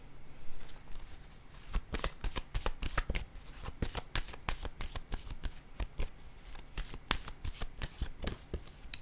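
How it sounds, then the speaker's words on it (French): Tarot cards being shuffled and laid down at close range: continuous riffling and flicking with rapid irregular snaps throughout, fairly quiet, with no talking. "Je vais déposer une autre carte ici."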